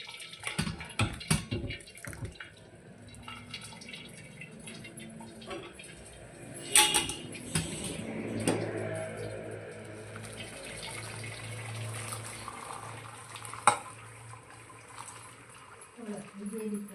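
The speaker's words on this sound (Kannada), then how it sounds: "ನಾವೀಗ ಶೋಧಿಸ್ಕೊಳ್ತಾ ಇದ್ದೀವಿ" Cooked drumstick (moringa) leaves being strained of their water for a Chitradurga-style bassaru, with pouring and dripping water sounds, a few louder splashes and clatters, close by over a steady kitchen background.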